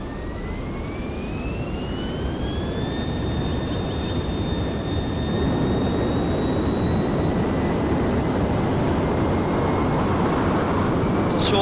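A Star Wars ship in Garry's Mod lifts off with a loud, steady jet-like roar that swells slightly and holds, with a thin whine rising in pitch, with no talking.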